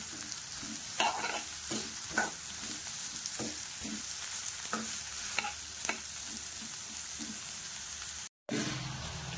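Ridge gourd pieces fry in a little oil in a bowl while being stirred, a steady soft sizzle broken by repeated scraping and clinking stir strokes, close and moderately loud with no talking.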